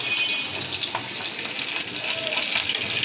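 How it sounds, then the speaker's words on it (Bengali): Pabda fish frying in a pan, a steady close sizzle and crackle of hot oil running evenly throughout, with no voices. "পাবদা মাছগুলো আগে ভেজে নিচ্ছি।"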